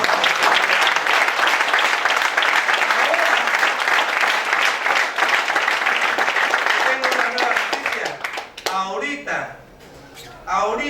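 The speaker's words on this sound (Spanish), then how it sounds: "Den un fuerte aplauso." A church congregation bursts into loud, dense applause at a repentance and conversion service. The clapping holds steady for about seven seconds, then thins out and fades as voices and cheering rise near the end.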